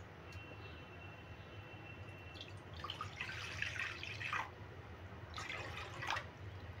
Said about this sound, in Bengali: এবার কড়াই দিয়ে দেবো জল।